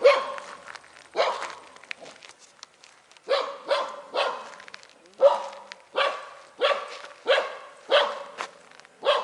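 A dog barks repeatedly outdoors in a park with birch trees, about a dozen sharp, fairly close barks in an irregular rhythm, some in quick pairs, with brief pauses between.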